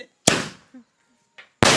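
Firecrackers burst during Vishu celebrations, giving two sharp, loud, close bangs about a second apart, with a brief voice heard between them.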